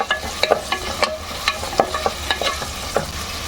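Onions and green chillies being stirred in a hot pan for a gongura mutton curry, a constant sizzle broken by repeated sharp scrapes of a spoon against the pan, close and clear with no talk.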